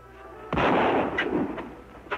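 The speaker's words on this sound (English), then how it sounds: "Who's shooting?" A single loud gunshot cracks out with a rolling, echoing tail, followed by a couple of fainter sharp knocks in the quiet afterward.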